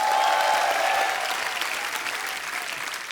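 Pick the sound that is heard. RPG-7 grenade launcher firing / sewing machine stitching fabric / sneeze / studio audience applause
studio audience applause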